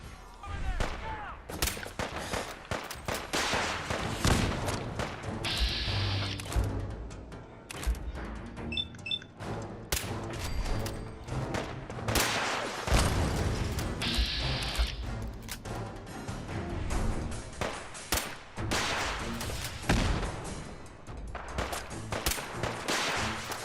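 Fallout 4 survival mode combat: rocket launcher missiles and gunfire crackle in dense, repeated bursts and blasts at loud, fairly close range, with scattered impacts and clanks throughout.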